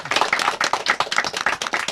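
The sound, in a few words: audience clapping for an actor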